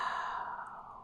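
A single long, soft exhale during a vinyasa yoga practice, a breathy airy rush held steady and close for about a second before gently tapering.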